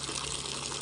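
Water pours steadily into feed for farm pigs, a continuous close gushing splash like a running tap, brief and even without any talking.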